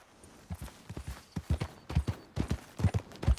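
Horse hooves in Red Dead Redemption 2 clip-clop in a steady, fairly close walking rhythm of paired thuds that grows louder over the span, with no speech heard.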